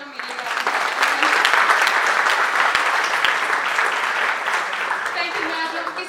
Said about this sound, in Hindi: एक बार जोरदार तालियां बजाइए ज़रा मेरे लिए